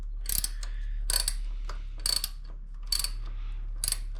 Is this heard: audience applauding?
no